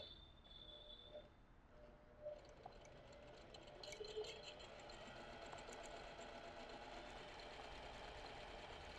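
Zigzag sewing machine free-motion embroidering rosettes, locking off a stitch; a faint, steady mechanical whir and rapid needle patter runs throughout at low level.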